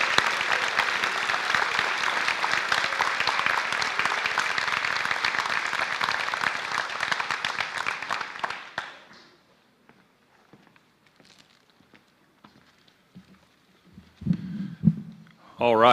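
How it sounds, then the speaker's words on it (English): A high school scholarship ceremony audience applauds the students, with dense sustained clapping for about nine seconds before it fades to near silence, followed by faint footsteps and a voice starting to speak. "Let's give them a round of applause for their achievements."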